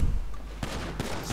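Two sharp gunshot bursts in Grand Theft Auto V ring out over a low, steady rumble, with the second shot about a third of a second after the first.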